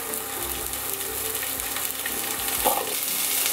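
Carrots hit hot oil in a wok and crackle with a steady, close sizzle and light scraping of stirring throughout, with no talking.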